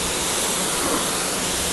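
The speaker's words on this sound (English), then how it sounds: "You can see just rinsing off this paint." Water from a foam cannon wash rinses car paint as a steady broadband hiss and splash, continuous and loud throughout.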